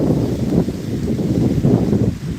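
Strong outdoor wind buffeting a microphone, a continuous low rumbling roar that swells and dips unevenly throughout with no voices.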